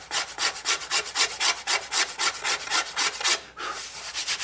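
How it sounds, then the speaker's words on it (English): Steady back-and-forth sanding on a thin carved wooden mandolin body, about twenty quick rhythmic rasping strokes close by with one brief pause, no talking. "I do think it needs some sanding. It won't take much sanding, but some."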